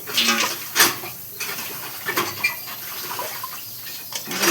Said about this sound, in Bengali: বালুগুলো ভালো করে বালতির মধ্যে নইয়ে খইসা খইসা ধোয়া নিচ্ছে আর কি